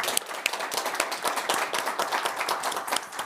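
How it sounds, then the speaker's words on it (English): An audience at a lecture event claps in a dense, brisk patter of many hands, moderately loud and steady, with no voices over it. "So let's give her a round of applause."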